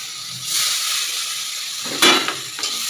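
Chopped onion hits hot oil already holding whole spices, left over from frying fish, and a bright sizzle swells up. A sharper burst of crackle follows near the end, as if the pan is stirred.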